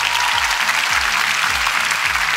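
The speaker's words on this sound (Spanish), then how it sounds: "un fuerte aplauso para él" A studio audience gives a loud, steady round of applause for a guest on a Spanish-language talk show, dense continuous clapping under faint voices.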